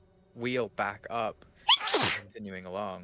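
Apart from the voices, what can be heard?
sneeze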